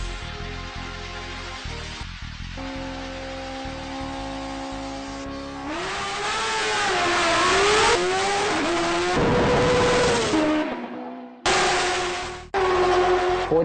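Kawasaki Ninja H2 dragster motorcycle making a run on a cold drag strip, a revving engine that climbs through rising gear pulls with abrupt cuts and restarts, loud and close.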